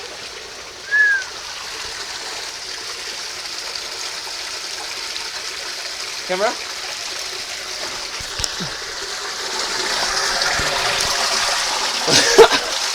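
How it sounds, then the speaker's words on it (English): An underground stream rushes steadily through a cave beneath the Amazonian forest of the eastern Andes in Ecuador, with a few faint echoing chirps and a brief spoken word. "These streams carved their way underneath the Amazonian earth for kilometers and kilometers and kilometers"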